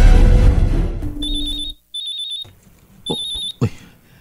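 A phone rings with an incoming call: loud electronic ring tones in three clear bursts, each a rapid warbling tone, alone after fading room noise.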